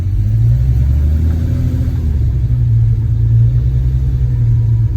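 A Chrysler Valiant with a 245 Hemi and triple Weber carburetors accelerating in drive, giving a loud, steady, deep engine drone with a brief rising tone early on and then a constant close rumble with no talking.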